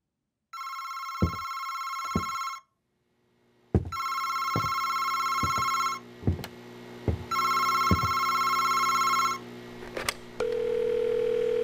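A telephone in the horror video game August Night rings in repeated electronic bursts with pauses between them, loud and close, while sharp thuds and clicks punctuate the gaps and a steady tone takes over near the end.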